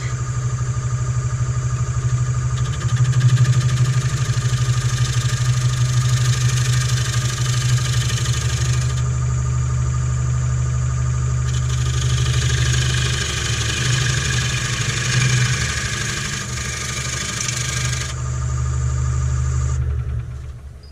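A wood lathe spins a hollow form at 750 RPM, giving a steady, loud mechanical hum with a low drone and a constant rattling vibration that continues evenly for about twenty seconds, with no talking.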